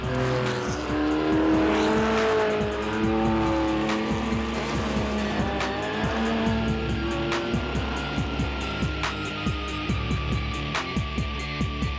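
Classic race cars lapping the Albi circuit at night during the Tour Auto, with loud engines rising and falling through gear changes, tires squealing and a rapid clatter of ticks, one car passing close then fading.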